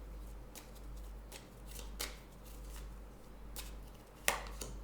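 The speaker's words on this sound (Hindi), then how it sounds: "Let's get a tarot card for Leos for the month of July." Tarot cards shuffled by hand, soft crisp riffling rustles in small repeated bursts, quiet and close over a low steady hum.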